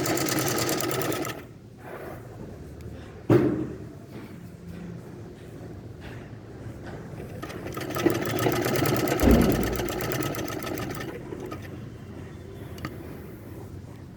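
A sewing machine stitches along the edge of a kameez, its motor buzzing in long steady runs broken by short pauses and a few sharp clunks as the fabric is repositioned.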